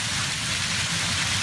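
Heavy storm rain pours down on Mallorca, a loud, dense and unbroken hiss of water with no voices.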